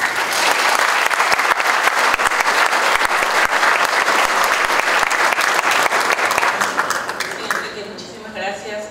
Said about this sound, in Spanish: la profesora Mónica Vargas, para quien pido un fuerte aplauso.